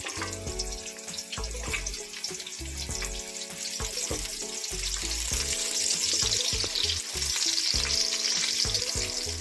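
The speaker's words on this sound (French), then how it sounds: "On va verser les oignons rouges d'abord." Red onions frying in hot olive oil, a loud close sizzle with wet crackle and a rising hiss, broken by quick irregular stirring scrapes and clicks.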